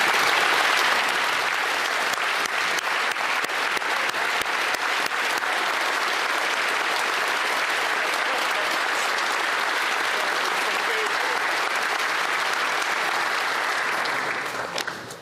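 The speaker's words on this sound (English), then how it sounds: "Let us all give them a huge round of applause." Dense, sustained applause fills the Canadian House of Commons chamber during the election of a new Speaker, holding steady and loud for about fifteen seconds before tapering off at the end.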